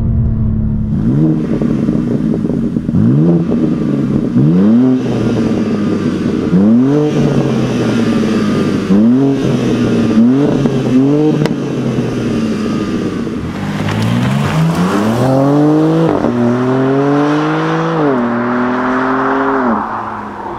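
A 460 HP BMW M2 with automatic transmission and the M3/M4 engine revs hard through repeated upshifts, each gear climbing in pitch before dropping. It stays loud and close, ending in longer pulls over wind noise.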